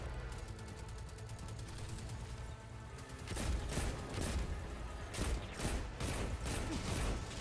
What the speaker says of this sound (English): What is shooting me?